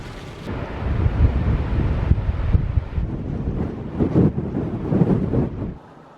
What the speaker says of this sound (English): It feels windier today, but it says that it's only 40 mile an hour winds.